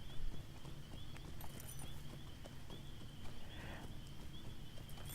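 Horse hooves clip-clop at a steady trotting rhythm in a fantasy video game set near Moria, playing continuously over a constant background game ambience.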